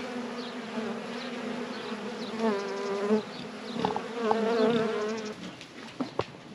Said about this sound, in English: There are a couple bees that seem a little bit lost and confused.